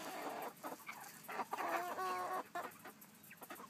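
Several chickens cluck close by inside a backyard chicken coop, their calls coming in short bursts and overlapping bright squawks, with no voices present.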